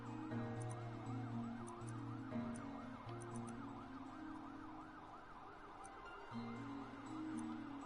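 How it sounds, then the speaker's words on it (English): Police sirens in a Spiderman video game wail in a continuous rising-and-falling pattern over a low steady tone, fairly faint and unbroken, with no talking. "Police sirens are so distracting."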